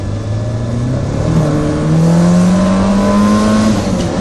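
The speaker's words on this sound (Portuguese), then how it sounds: "Quanto giro vai quando você pisa? 7 mil." A Ford Escort XR3 engine revs loudly from inside the car, its pitch climbing steadily and then holding high as it accelerates, with no talk.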